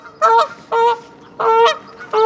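A big goose honks four times in a steady series, each call loud, harsh and close, with short pauses in between and no talking.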